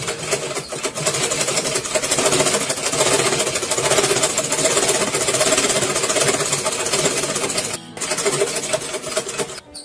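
A sewing machine stitching folded fabric, running in a loud, fast, continuous whir for several seconds, then stopping briefly before starting again, close by with no voices.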